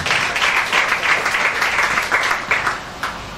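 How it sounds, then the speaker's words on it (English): Church congregation at a prophetic service clapping together, a close, loud and continuous burst of many hands with slight rhythmic pulses, no talking over it. "Clap Jesus"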